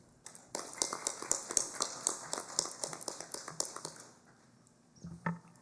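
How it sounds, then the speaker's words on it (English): A small audience at a special legislative congress session gives a round of applause, a few seconds of sparse close clapping that tapers off, followed by a couple of stray claps. "May I introduce Mr. Lepar George and ask that we give him a round of applause."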